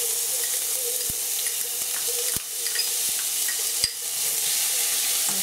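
Onion and sweet pepper sizzle steadily in a hot pan with oil while a utensil stirs them, giving a continuous close frying hiss with a few soft scraping knocks against the pan.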